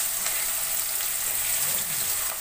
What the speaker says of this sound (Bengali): সবার প্রথমে পেঁয়াজ কুচি দিয়ে দিচ্ছে তেলের মধ্যে, আস্তে আস্তে করে ছাড়ছে যাতে তেলটা না ছিটকে আসে হাতে